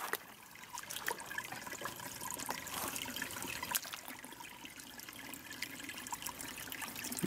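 Water trickles faintly over rocks in a stream, a soft continuous babble with small splashy ticks and no voices.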